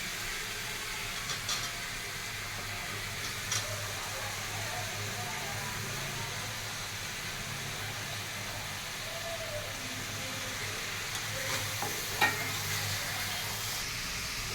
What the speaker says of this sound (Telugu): ఆనియన్స్లోనే టమాటాలు కూడా వేసి ఫ్రై చేస్తున్నాను.